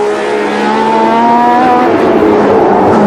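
A Formula 1 race car at the 1976 Long Beach Grand Prix screams past with a loud, close, sustained high-pitched engine howl that slowly drops in pitch as it recedes. No talk is heard.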